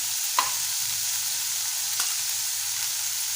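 A spoon stirs turmeric, Malvani masala, coriander powder and garam masala into sprouted black peas in a pan, with a steady soft sizzle and two brief scraping taps against the pan.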